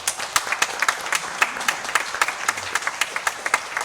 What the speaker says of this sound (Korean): 잠시 일어서 주시면 박수로 환영하도록 하겠습니다